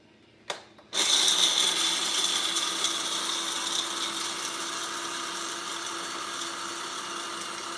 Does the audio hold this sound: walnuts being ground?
yes